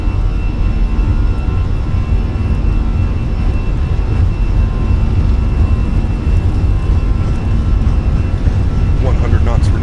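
Fenix A320 airliner engines at takeoff power in Microsoft Flight Simulator, a loud, steady roar that holds unbroken for the whole stretch, with brief voices over it near the end.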